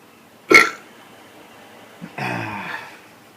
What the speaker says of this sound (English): And now it's burping time.